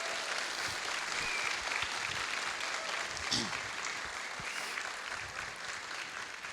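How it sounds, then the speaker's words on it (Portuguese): Audience applause at a talk, a steady wash of clapping from a seated crowd that holds at an even level throughout, with a faint voice briefly audible beneath it. "uma pequena salva de palmas para esse homem tão precioso"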